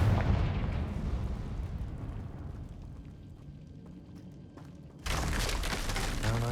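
A Confringo explosion spell in the video game Hogwarts Legacy goes off as a deep rumbling blast that fades over several seconds before a second loud, broad burst of noise erupts.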